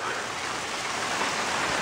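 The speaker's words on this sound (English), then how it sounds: "it's starting to hail" Hailstones pouring onto a car and the surrounding ground in cold weather north of San Diego make an even, unbroken rushing patter up close, holding a constant level throughout without any talking.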